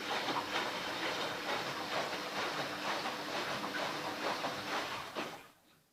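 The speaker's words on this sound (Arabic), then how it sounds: "الغسالة تمام، ملت ميتها وبتلف الشمال" A Daewoo washing machine, just repaired after an E8 motor fault, spins its drum leftward with a steady, close whirring and rhythmic churning that holds evenly for several seconds, then winds down and fades at the end.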